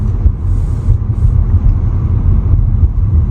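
A car comes head-on along a narrow road, its engine a steady, close, low rumble that fills the whole stretch with no other sounds over it.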